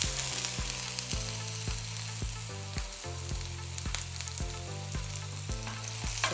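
Onion sautéing in a pan for a baby's egg yolk and potato dish: a steady, even sizzle runs throughout, with a musical tune underneath and no talking.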